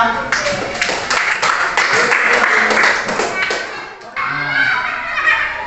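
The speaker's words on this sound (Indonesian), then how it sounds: "Tepuk tangan untuk kelompok 3." Schoolchildren in a classroom clap for a student group, a busy burst of close hand claps that fades briefly before children's voices and chatter take over.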